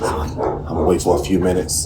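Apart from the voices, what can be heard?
dog barking in the background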